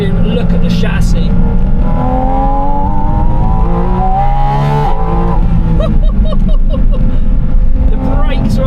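A Porsche 718 Spyder RS mid-engine sports car accelerates hard on the Millbrook hill climb, its engine loud and close. The revs rise and fall in sweeping pitches as it changes gears.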